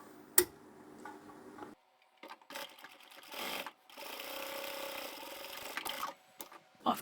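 Sewing machine back stitching across a fabric crossbody satchel, short bursts of fast mechanical stitching separated by pauses and a few clicks, close and fairly quiet with no talking.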